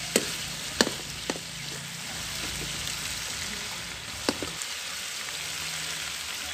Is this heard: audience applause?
no